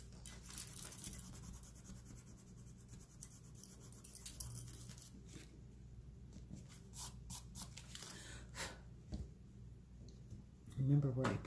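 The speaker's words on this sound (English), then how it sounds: "I'm going to erase my pencil marks." Quiet, scratchy rubbing of an eraser clearing pencil marks from a handmade Mother's Day paper card, a soft continuous brushing close by with brief louder strokes near the end.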